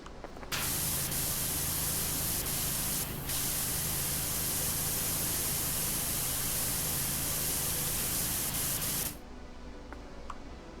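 Pressure washer spraying in the PowerWash Simulator video game, a loud, steady hissing blast that runs for about nine seconds with one brief dip, then cuts off to quiet.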